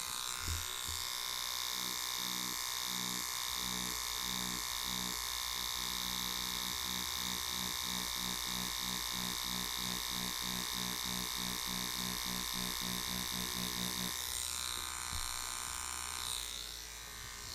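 A Neuma 4 rotary tattoo machine with a cam and bearing arm gives a steady, close electric buzz with a pulsing rhythm that shifts in tone near the end.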